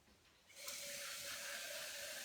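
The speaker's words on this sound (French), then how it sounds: "j'ai besoin d'eau. Alors, je vais remplir ça." A kitchen tap starts running after a quiet moment and fills a container with a steady, soft hiss of flowing water.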